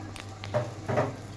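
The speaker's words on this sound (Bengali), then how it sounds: "লুচি শেষ পর্যায়ে ভাজা নাকি বেশিক্ষণ লাগবে না আর" Luchi, Bengali puffed flatbread, fry in oil with a steady bubbling sizzle and a low hum underneath. Two swelling bursts of hiss rise as the dough hits or is turned in the oil.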